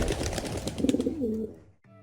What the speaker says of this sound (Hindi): तभी घर के पीछे कबूतरों की आवाज आने लगी